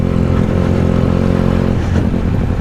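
A Benelli TNT 300 motorcycle engine runs close and loud, a steady idle rumble with a layered, throbbing tone that loosens and changes character near the end.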